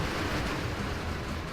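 Steady broadband wash of ocean surf rolls without pause from a battle scene in the video game Rome: Total War, a soft, continuous roar with no distinct breaking wave and no voices.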